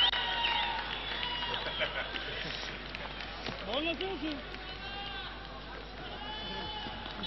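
A cricket stadium crowd cheers and murmurs in a broad wash of noise after a not-out decision, with individual shouts rising above it and a voice speaking partway through.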